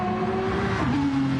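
An Aston Martin GT race car at the Le Mans 24 Hours endurance race, its engine howling steadily and dropping in pitch briefly as it passes, loud and continuous with no talk.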